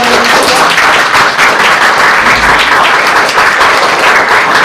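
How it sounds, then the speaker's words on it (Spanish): An audience applauds at the close of a round-table session on digital and print comics, a loud, full burst of clapping from many people that stays dense and steady without voices. "Un aplauso."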